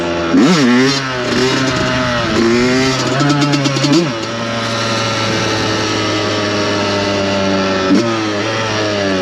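A Yamaha YZ 125 two-stroke motocross bike revs hard with rising and falling engine pitch as the rider lifts a wheelie, then settles into a steady high drone, loud and close with no talk.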